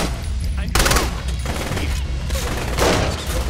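Rapid bursts of gunfire from the video game Saints Row: The Third Remastered crackle loudly and continuously, with dense overlapping shots and booms filling the whole stretch.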